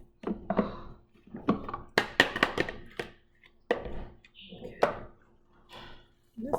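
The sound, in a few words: chopping fresh salmon for salmon burgers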